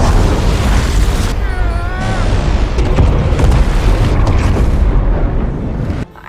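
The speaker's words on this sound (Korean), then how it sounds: "심해에서의 대폭발이 일어나고" A huge deep-sea explosion in an action thriller film erupts as a loud, sustained rumbling boom, with eerie tonal sweeps briefly cutting through before the roar abruptly drops away at the end.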